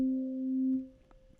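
Two sine-wave operators, one plain sine and one 8-bit sine, combined in Ableton's Operator synth sound a steady, clean tone with a bright overtone, holding for most of a second before fading out.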